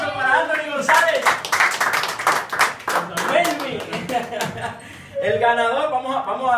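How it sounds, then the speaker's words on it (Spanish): A crowd claps loudly for the winner of a Samsung Galaxy S6 raffle held by a press photographers' circle in Puerto Plata. The applause is dense and continuous, with voices talking and laughing through it. "fuerte el aplauso para Anthony González."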